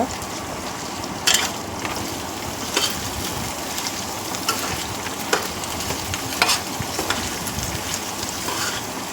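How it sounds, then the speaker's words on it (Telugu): Finely chopped ivy gourd (tindora) frying in a pan over low heat, a steady close sizzle broken by sharp spatula scrapes every second or so as the pieces are stirred, with no speech. "దొండకాయలు చిన్నగా కట్ చేసుకుని వేసుకుంటే కొంచెం త్వరగా ఫాస్ట్గా ఫ్రై అవుతాయి"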